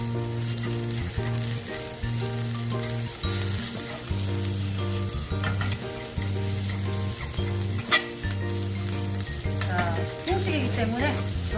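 Garlic chives stir-fry in a hot wok with a steady loud sizzle, broken by repeated scraping and tossing strokes of a wok spatula in a rhythmic pattern, with no talking.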